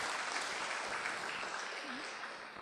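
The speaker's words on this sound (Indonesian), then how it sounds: "Kalau tepuk tangannya semangat seperti itu" A lecture audience applauds, a dense, steady wash of clapping that holds at an even level throughout and tapers only slightly at the end.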